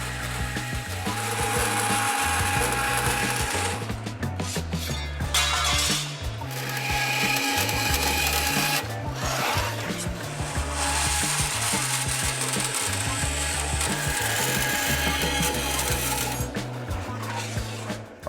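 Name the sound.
trimming 16-gauge sheet steel to fit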